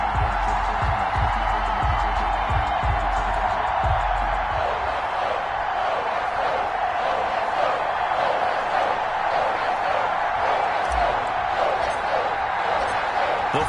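Crowd noise from an EA Sports NFL video game, a sold-out stadium before a Patriots versus Cardinals game, with a continuous broad roar and cheering and some thumping early on, under a commentator's voice.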